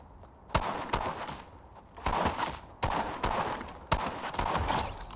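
Pump shotgun fire in the Fortnite video game, heard as four or five loud, sharp blasts spaced roughly a second apart, each trailing off in a short decay with no talking.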